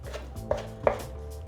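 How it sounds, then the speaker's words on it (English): A knife chops a mix of fresh herbs on a cutting board, giving a few soft, irregular thuds, two of them sharper and louder, close up and quiet with no talking. "I'm chopping them all together."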